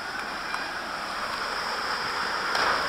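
Steady, moderate rush of falling water from a waterfall beside a big swimming hollow, a continuous broadband hiss without breaks.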